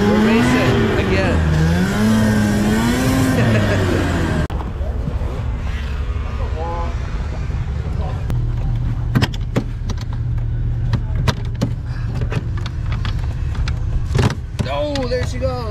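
Vintage snowmobiles race around a snocross track, a high engine whine rising and falling in pitch at first, then dropping to a lower steady drone broken by sharp clicks and knocks.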